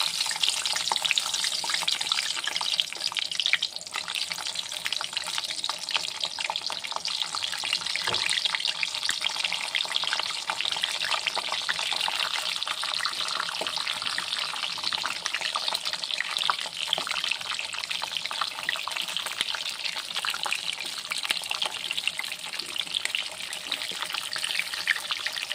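Stuffed capsicum peppers frying in hot oil give a steady, dense sizzle and crackle that holds evenly throughout, close and with no talking.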